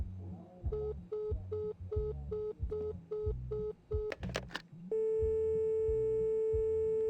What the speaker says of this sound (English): Wish I didn't have to listen to the entire phone call.